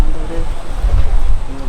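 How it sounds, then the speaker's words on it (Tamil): Water pours steadily at Agaya Gangai waterfall in the Kolli Hills, a dense, roaring rush close to the microphone with a buffeting, windy low rumble and no clear talk over it. "இந்த அருவி அந்த இடத்துல கொட்டும் உங்களுக்கு."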